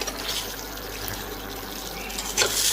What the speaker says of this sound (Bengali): এবার জলটা আমি তাড়াতাড়ি হওয়ার জন্য এবং স্বাদ আরও ভালো হওয়ার জন্য আমি ফুটনো গরম জল দিয়ে দেবো